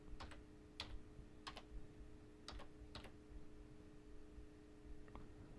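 Faint, quick clicks of a computer keyboard come in short bursts of keystrokes, with pauses between them, over a soft background hiss.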